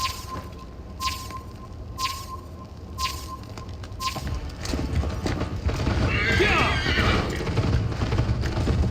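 A horse in the Assassin's Creed Valhalla video game whinnies loudly after a run of steady hoof clip-clops, with rising outdoor ambience and a brief voice in the game mix.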